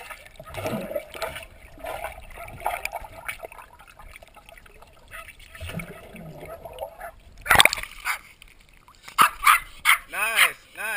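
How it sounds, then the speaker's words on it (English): Several dogs bark and yip in short bursts, louder near the end, with a person talking over them outdoors near water while playing with a ball. "Can you get the dogs to stop barking?"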